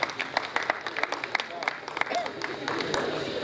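Audience applause at an Urdu poetry gathering, a crowd clapping with a rapid patter of hand claps and scattered louder claps, moderately loud, with a voice talking over it.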